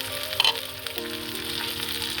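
Fried cauliflower pieces drop into a garlic tempering and set off a sizzle, with a brief clatter near the start and a faint tonal hum running underneath.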